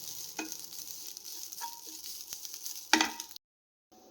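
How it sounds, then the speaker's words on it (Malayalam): Grated coconut roasting in a pan for rava laddu, with quiet scrapes and a few soft stirring knocks, one louder clatter near the end before a brief silence. "ജസ്റ്റ് ഒന്ന് ബ്രൗൺ കളർ ആവുന്ന വരെ ഒന്ന് വറുത്ത് എടുക്കാം തേങ്ങ."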